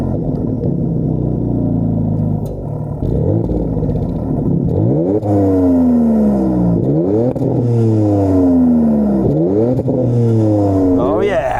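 A Dodge Charger with the Hurricane engine and an eight-speed automatic revs loudly and close by, climbing through repeated sweeping rises and dropping back between them, with the pitch shifting at each change in a steady, powerful drone.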